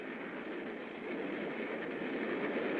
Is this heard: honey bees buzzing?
no